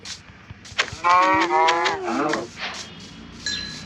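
A video game cow moos loudly in one long, drawn-out call with a wavering pitch, followed by quieter background noise and a brief electronic tone.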